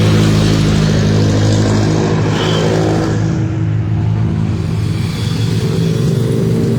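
Cars rushing past in oncoming traffic on a two-lane road during a counterflow jam, a loud, steady engine and tyre roar with a vehicle accelerating close by.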